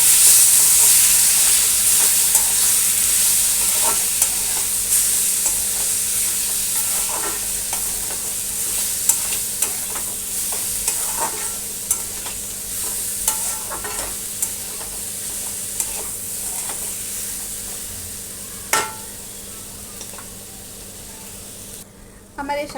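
Gujarati saag greens frying in a pan and being stirred, a steady close sizzle and hiss broken by scraping clicks of the spoon against the pan.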